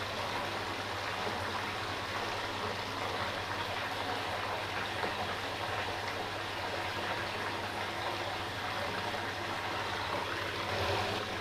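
Steady rushing and trickling water flowing around a submerged SCX10 RC car, over its motor and wheels, fairly faint and continuous, with a low hum underneath.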